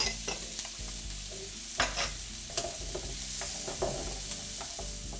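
Half a cup of onions and mushrooms sautéing together in a pan, a continuous near sizzle broken by brisk stirring scrapes and spatula knocks, no voices.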